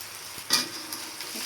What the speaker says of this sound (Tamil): ஓகே, கனவாவையும் போட்டுப்போம்.